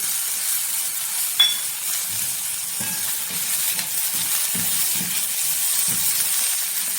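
Chopped tomatoes and onions frying in a pan for a Tamil spicy tomato chutney, with a steady sizzling hiss throughout and a few soft stirring knocks, no talking.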